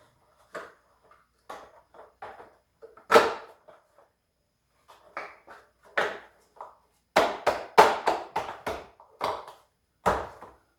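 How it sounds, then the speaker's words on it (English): Plastic parts of a black and yellow storage shelf knocked into place with a rubber mallet, a series of sharp hollow taps and clacks in short bursts, close by and with no talking. "Let's snap these in place again"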